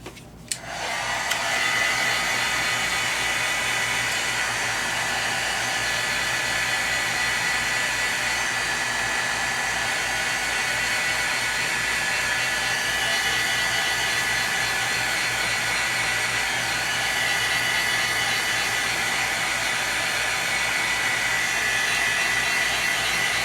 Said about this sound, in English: Heat gun, guys, heat gun.